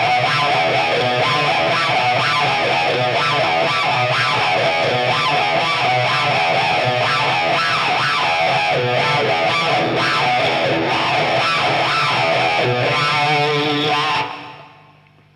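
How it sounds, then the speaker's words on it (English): A loud distorted guitar riff played through a talk box, with a vocal-like, talking quality, drones on continuously, dense and close, before cutting off abruptly near the end. "So you get sort of a cross between a guitar riff and somebody talking."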